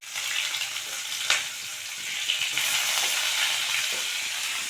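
Mustard seeds and cumin fry in hot oil with a bright, even crackle. A few sharper pops stand out from the constant close hiss.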